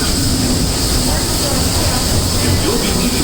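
The Disneyland Railroad train at Disneyland, California runs along the rails with a loud, steady rumble and hiss, and an announcer's voice speaks over it.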